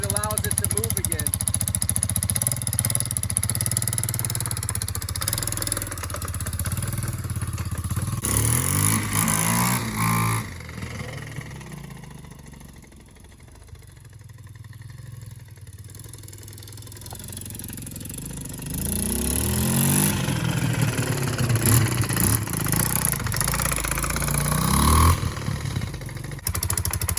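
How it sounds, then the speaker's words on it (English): Engine of a 2008 Kawasaki quad with a go-kart-like centrifugal clutch running steadily, rattling and throbbing up close, easing down to a quieter idle in the middle before picking back up. "Now that I listen to it a lot more, it does sound like a go-kart clutch"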